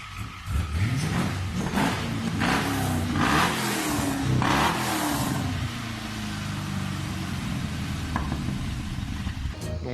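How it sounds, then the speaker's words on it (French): A 1963 Corvette Split Window with a swapped-in LS3 Corvette V8 revs in a series of rising and falling bursts, loud and close, then settles into a rougher idle. "Le moteur, c'est un LS3 Corvette qu'il y a dedans."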